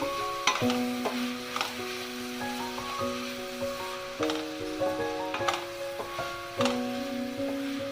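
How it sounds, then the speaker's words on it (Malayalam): Chopped onions sautéing in oil for a fish dum biryani, a steady soft sizzle with occasional stirring scrapes, partly masked by a prominent stepping melodic tone throughout. "ഇനി നമുക്ക് ഈ ഒനിയൻ ജസ്റ്റ് ഒന്ന് ഫ്രൈ ആയി കിട്ടണം. അതുവരെ നമുക്കിതൊന്ന് വഴറ്റി കൊടുക്കാം."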